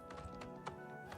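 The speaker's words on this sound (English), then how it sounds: "the stable should be over here. I believe this is where I bought my paint horse." Horse hooves clip-clop in a steady quick rhythm from a paint horse near a stable in Oblivion Remastered, moderately loud with no speech.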